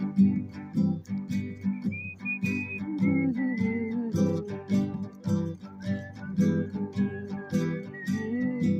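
Several people whistle a wandering melody along with music, the whistled tune rising and falling over a steady band accompaniment.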